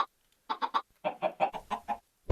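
Minecraft chickens cluck in short clustered bursts, a trio of quick clucks followed by a longer run of six or seven, fairly close and clear with no talking.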